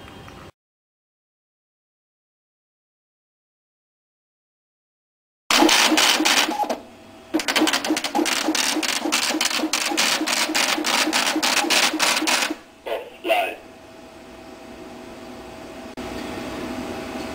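Basic D V3 braille embosser embossing pages, a rapid, rhythmic series of loud mechanical punching strikes lasting about seven seconds, briefly pausing mid-run, then a few short bursts before a quieter mechanical hum remains.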